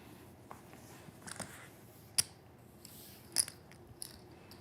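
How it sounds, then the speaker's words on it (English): Poker chips clicking as they are shuffled and passed at a live tournament table, a few sharp, faint clacks scattered over a quiet room hum with no talking. "there's just a lot of shuffling of the chips, passing back and forth"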